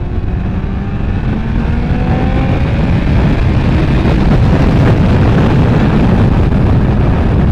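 A Kawasaki ZX14R motorcycle rides through traffic on an Indian highway, its engine a loud continuous roar with rising revs, heavily buffeted by wind noise at the helmet microphone.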